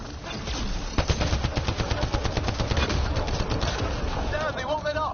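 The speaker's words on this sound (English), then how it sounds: "Just keep firing!" Sustained automatic gunfire in a Mass Effect Andromeda firefight on Insanity difficulty, a dense stream of rapid shots with voices talking over the shooting.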